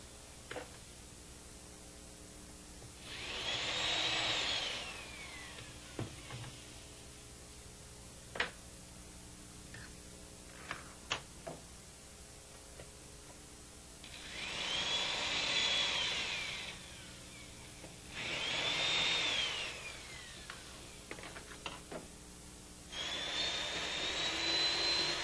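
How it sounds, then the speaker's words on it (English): A power drill bores holes in the top and bottom of a cabinet in four separate whirring bursts of a few seconds each, with quiet pauses and small clicks between them. "I'm going to drill holes in the top and bottom of this cabinet"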